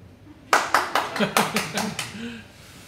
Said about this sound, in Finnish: lunastetut voi taputtaa